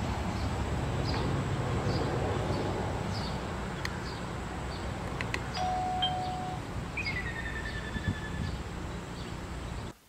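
Two-tone electronic chime from a Skybell Trim Plus video doorbell, with a short descending tone and a brief rising tone, sounding faint over steady background hiss and distant bird-like chirps.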